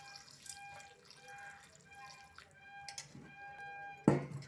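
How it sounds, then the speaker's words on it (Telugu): Water poured into a pot of gongura (sorrel leaf) curry with dried prawns, salt and turmeric: a faint, steady trickle under a low background hum, ending in a brief, louder splash near the end. "ఇందులో వాటర్ తగినంత పోసుకోవాలి."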